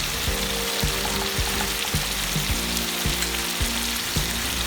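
Chicken fries in a karahi with tomato paste, a dense, steady sizzle with regular stirring knocks about every half second, close and fairly loud, with no talking.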